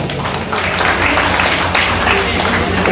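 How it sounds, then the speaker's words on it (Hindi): An audience at a political youth conference in Kathua claps steadily in a loud, continuous burst of applause. "एक बारी तालियां करिए"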